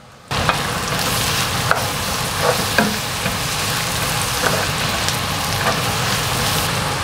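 Onions, carrots and celery frying in a hot pan, a loud, dense, continuous sizzle that starts abruptly, with occasional pops and scrapes of stirring and no talking.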